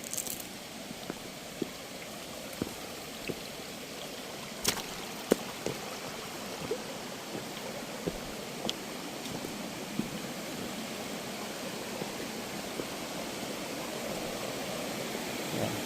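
A waterfall (busay) runs in an outdoor setting with a steady, soft rush of falling water and faint scattered drips and splashes. The sound is distant and continuous, with no voices.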